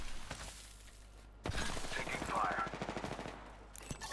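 Rapid automatic gunfire in a video game: a quick burst of closely spaced shots with sharp onsets, moderately loud against background game noise.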